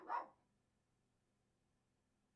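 A dog lets out one sharp bark at the start, loud and close indoors, followed by near silence.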